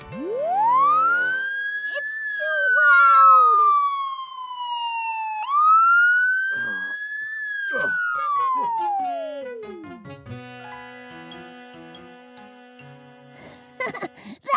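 A police siren wails loud and close, rising and falling through two long sweeps before winding down, with a few brief clatters around it.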